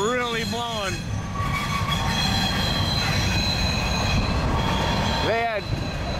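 A train passes in strong westerly wind near a mid-April Iowa crossing, a steady roar with wheel squeal rising at the start and again near the end, wind buffeting throughout.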